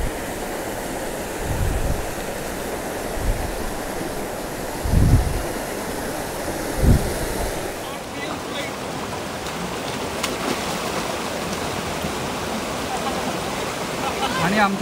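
A naturally formed waterfall in the Sahyadri hills, heard as a loud, continuous roar of falling water close by, with heavy thumps and wind buffeting at intervals.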